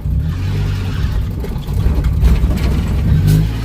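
A car with a worn-out clutch is driven in too high a gear, its engine lugging and revving loud and close with a low, steady drone that swells toward the end, with no talking.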